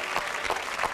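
A studio audience at a Vietnamese televised dating show claps steadily, a dense, moderately loud wash of many hands with no talk over it.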